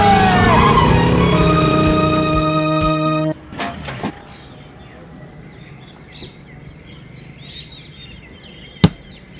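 A car braking to a stop gives a loud tonal squeal for about three seconds that cuts off abruptly, followed by a few clunks, quiet outdoor ambience with faint bird chirps, and a sharp knock near the end.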